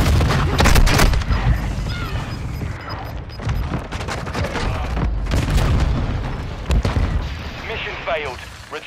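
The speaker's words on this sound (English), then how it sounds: "Our mortar strike is inbound" Mortar strike explosions land in Call of Duty Modern Warfare II during a hardpoint match, a string of heavy booms and blasts with gunfire, while in-game voice callouts talk over the chaos.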